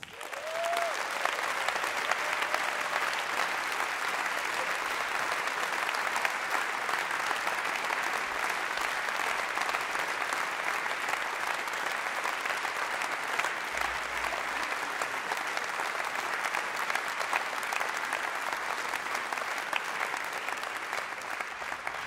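A concert audience at a big band jazz show applauds steadily for over twenty seconds to welcome a saxophonist, a dense, even wash of clapping with no talk over it.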